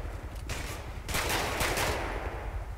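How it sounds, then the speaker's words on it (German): Bursts of rapid gunfire in Grand Theft Auto 5 crack in quick succession, loud and close, with a short pause between volleys. "Bin ich halt der Einzige, der hier schießt?"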